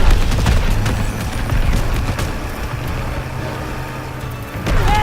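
Gunfire aimed at the player during a Call of Duty WWII campaign mission, sharp shots over a loud rumbling engine-like background, with a heavier burst toward the end.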